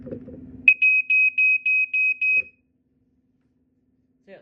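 A Black & Decker SMK60M3 piezo smoke alarm sounds a run of seven short, evenly spaced loud beeps, close and alone, after a brief low rumble at the start.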